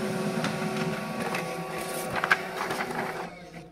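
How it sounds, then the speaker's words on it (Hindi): An HP LaserJet M236sdw printer runs while printing a photocopy, a steady mechanical whir with soft clicks and a brief clatter near the middle before it quiets at the end. "उसके बाद यहाँ से अभी हमारा प्रिंट आ जाएगा निकल कर।"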